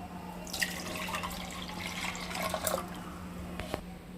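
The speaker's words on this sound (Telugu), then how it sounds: "ఇలా one cup one cup coconut milk తీసుకుంటున్నాను" A cup of coconut milk is poured into a container for a tender coconut summer juice, giving a steady liquid trickle with splashing and dripping that swells midway, then a short final spill.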